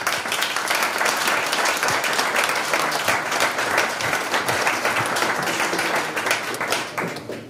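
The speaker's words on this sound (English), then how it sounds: "A final applause for all that gave your presentations today." An audience gives a final round of applause for presenters at a pitch event in Prague, a loud, sustained burst of dense clapping that fades slightly at the end.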